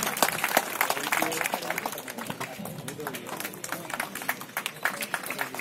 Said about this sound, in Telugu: ఎస్ఎస్ అంజన గారు కార్పెట్ సన్మానిస్తున్నారు, గట్టిగా చప్పట్లు కొట్టాల్సిందిగా కోరుతున్నాను.